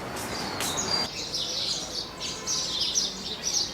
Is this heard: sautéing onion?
no